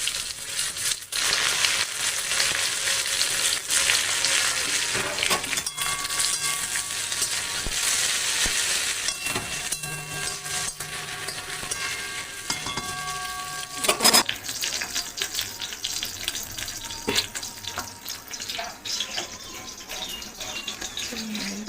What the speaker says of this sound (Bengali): কাজু কিশমিশ জলে ভিজিয়ে রেখেছি, দিয়ে কড়াইয়ে দিয়ে দেবো। হালকা করে নেড়ে চেড়ে নেব।